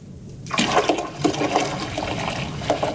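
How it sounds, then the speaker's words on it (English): Hot water poured from a 6-liter container into a carburetor-cleaning tub, a loud close gushing pour that starts abruptly and runs steadily with splashing, no talking. "Now I take hot water. This is a 6-liter container. And I pour it in."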